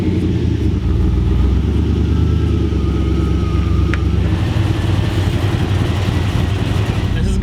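A project car rumbles and idles steadily close by as it pulls away for a test drive, loud and continuous throughout.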